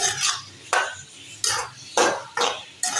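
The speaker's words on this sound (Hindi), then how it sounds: "अब हम इसको मिक्स कर लेंगे" A spoon scrapes and clinks against a pan while keema is mixed with soy sauce, giving a series of about six close, bright scraping strokes in a loose rhythm.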